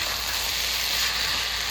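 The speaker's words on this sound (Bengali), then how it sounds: "এর মধ্যে আমি ঘি দিয়ে দিচ্ছি" Ghee hitting a pot of fish-head chyachra with boiled vegetables, Bengali wedding-style, gives a steady, close sizzle that stays even and unbroken throughout, with no talking.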